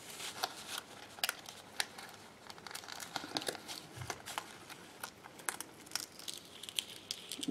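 A sticker sheet is peeled away slowly, giving faint, close crinkling and crackling ticks scattered irregularly over a quiet background.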